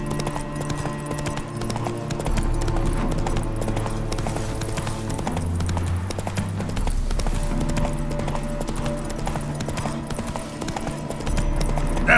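Horse hooves clip-clopping at a gallop in The Witcher III on PS5, a steady rapid rhythm up close over a continuous game music bed, with no talking.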